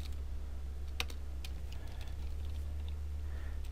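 Someone types code on a computer keyboard, with a quick run of close, crisp key clicks over a low background hum.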